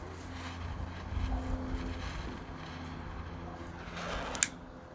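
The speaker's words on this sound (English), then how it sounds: "the wind is blowing the flame" Wind blows outdoors in gusty low rumbles against the microphone, rising and falling over a few seconds with a brief sharp noise near the end.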